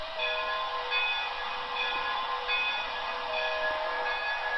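Bell of an HO scale Broadway Limited steam locomotive's sound system, a steady ringing tone rolling continuously at close range, mixed with the model's soft chuffing background.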